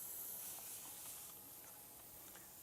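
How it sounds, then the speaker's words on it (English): An airbrush sprays purple paint onto a miniature figure's armor, a steady soft hiss of air and paint mist, close and continuous with no talk. "Looks like it's spraying pretty nice."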